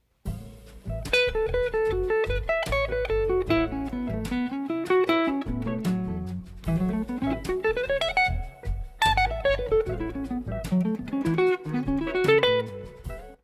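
A fast lead guitar line runs in quick descending and rising note sweeps over a steady backing, loud and continuous with no talking.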